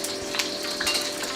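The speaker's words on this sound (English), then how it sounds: "When you fry eggs over high heat, they puff up and they get really, really lacy like this." Eggs fry in hot oil over high heat, giving a steady close sizzle with small crackles and pops running through the whole stretch and no voices.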